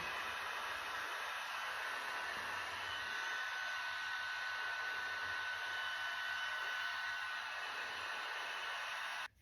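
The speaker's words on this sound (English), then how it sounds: "I'm blow drying this one." A hair dryer blowing on eyelash extensions gives a continuous close, loud airy roar with a steady whine, running unbroken until it cuts off abruptly at the end.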